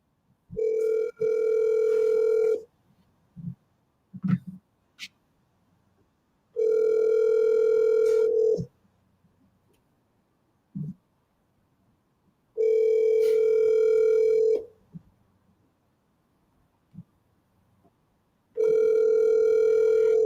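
Telephone dial and ringback tones while placing a call, a steady electronic tone sounding in four long bursts of about two seconds each, separated by quiet gaps with faint clicks.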